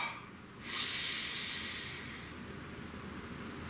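One slow, deep inhalation draws in close to the microphone as a soft, airy hiss, swelling after a brief pause and then easing off into a long, quieter breath.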